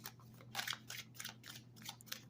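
A rapid run of crisp, papery riffling bursts, like playing cards being shuffled close by, with short pauses between the flurries.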